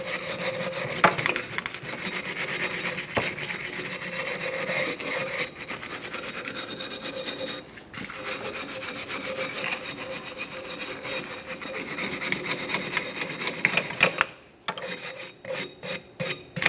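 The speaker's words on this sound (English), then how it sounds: "We'll continue on with cleaning up the backing plate." A brake backing plate on a 1994–1997 Honda Accord being scrubbed clean, giving a continuous harsh rasping scrape in long strokes, with a brief pause midway and choppy stop-start strokes near the end.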